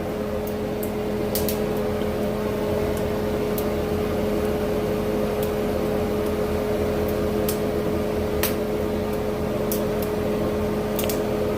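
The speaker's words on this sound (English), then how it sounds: "Oh yeah, they sizzling up, alright." Food sizzles while cooking, a continuous even hiss with a steady mechanical hum beneath and scattered sharp pops and crackles breaking through now and then.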